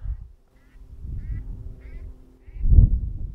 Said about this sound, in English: That was a duck. Did you hear that?